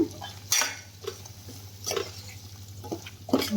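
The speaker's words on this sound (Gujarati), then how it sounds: "આવી રીતે સારી રીતે હલાવી લેવાનું છે" A spiced potato curry, with coriander-cumin powder added, is stirred in a pan, giving several separate scraping and clinking strokes of a spoon against metal at an uneven pace, close and fairly quiet over a low steady hum.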